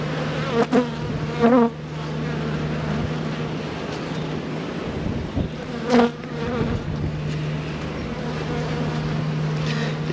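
Honey bees being readied for shipping to new homes, with fresh eggs laid in the comb, hum in a dense, continuous buzz close by, with a few louder individual bees passing near the ear.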